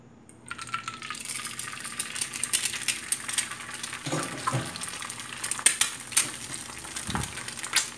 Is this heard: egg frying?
yes